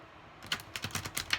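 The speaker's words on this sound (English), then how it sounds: "Let's do the horizontal shuffle." Slippery oracle cards from an Oracle of Visions deck riffled in a horizontal shuffle, heard as a quick run of six or seven crisp, close papery flutters and taps after a brief quiet start.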